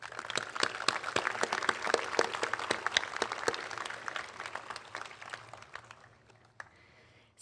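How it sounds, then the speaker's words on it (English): Audience applause at a commencement ceremony at Cal Maritime sounds as dense clapping from a large crowd. It stays steady for several seconds, then thins out and fades near the end. "So please join me in giving them a well-deserved round of applause."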